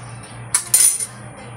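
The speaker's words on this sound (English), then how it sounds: "Let me get a spoon." A metal spoon lifted from cutlery at breakfast, a couple of quick, bright clinks close by over a faint hum.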